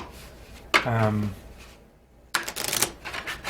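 Playing cards from a board-game deck being shuffled by hand, a ruffling burst of card flutter followed after a pause by a longer crackling riffle, close and alone without talk.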